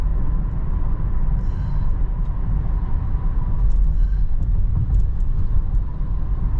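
Steady cabin drone of a Mercedes-Benz GLC300 4MATIC cruising on a highway in 9th gear at about 73 to 75 mph, with a constant low engine hum and road and wind noise, unchanging and continuous, no voices.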